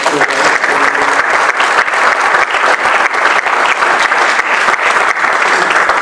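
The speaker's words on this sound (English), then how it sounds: "Please join me again in giving this really distinguished panel a great round of applause" Sustained audience applause for a panel at a Maryland education policy forum: dense, steady clapping from a large crowd, loud and close throughout with no break.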